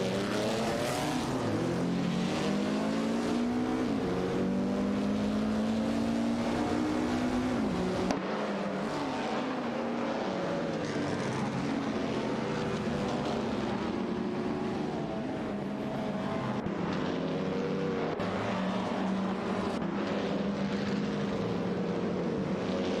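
In a video game race, a Cooper 23 tries to hold off a Ferrari 555 while both engines whine together in layered, shifting tones that climb and dip as they duel, loud and continuous throughout.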